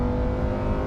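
A Lamborghini Huracan fitted with a new exhaust system gives a loud, close, steady engine roar with a deep rumbling tone, held for under a second with no speech.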